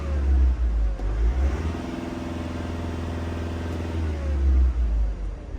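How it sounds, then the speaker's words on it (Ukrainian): A Volkswagen Crafter van's turbo diesel engine idles with a low rumble, then revs up and holds a higher steady drone before settling back down. "Турбіна дує відмінно"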